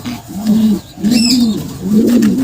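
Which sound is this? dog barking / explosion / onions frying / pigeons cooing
pigeons cooing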